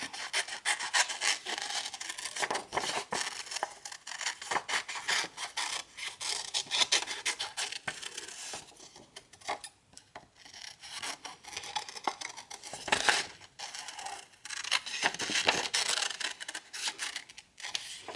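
Scissors or a blade cut a shape for an action figure base, producing close, irregular crisp snipping and scraping strokes that continue in bursts with brief pauses, with no talk.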